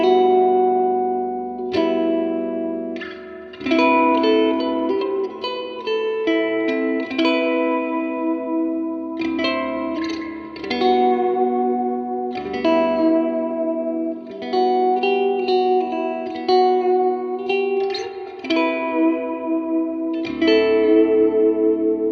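A Fender Vintera II Bass VI played through its bridge and middle pickups, picking melodic phrases with sustained low notes under chiming upper strings, treated with chorus and reverb effects, steady and close with no talking.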